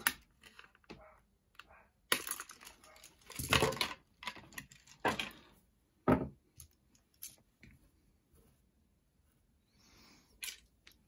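Toy figure packaging from a Transformers unboxing is cut out in a quiet room: scattered close snips, plastic crinkles and sharp cracks in irregular bursts separated by near silence.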